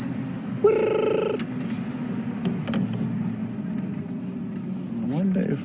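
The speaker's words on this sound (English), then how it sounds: "Listen to all the cicadas." Cicadas drone in a loud, steady, high-pitched buzz throughout, heard from a vehicle freewheeling downhill on a sunset safari drive, with a brief whistle-like call near the start and a low rumble underneath.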